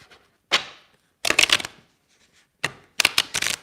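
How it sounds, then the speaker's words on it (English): Tarot cards being shuffled by hand in close, crisp riffling bursts, two short runs each followed by a quick flurry, with silence between. "I'm just going to shuffle a little more"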